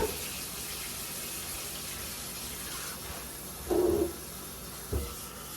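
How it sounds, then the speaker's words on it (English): Water poured out of a pot to strain cooked spaghetti noodles into a sink, a soft steady rush with a louder splashing gush partway through and a brief clatter after. "I am going to strain these noodles now."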